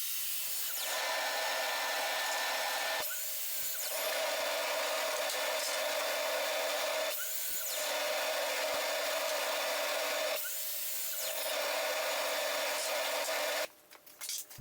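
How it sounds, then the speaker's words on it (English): A miter saw cuts tongue and groove boards, its motor whining loud and close in long sustained bursts separated by brief pauses as the blade spins down, several cuts in a row. "Over at the miter saw, I cut the tongue and groove boards for the center panel to length."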